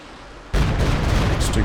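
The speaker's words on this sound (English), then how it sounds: "Stuka Barrage" Stuka dive bomber barrage in Company of Heroes 2: after a moment of quieter battlefield ambience, a sudden loud explosive burst erupts and continues as a roaring, crackling wall of blasts.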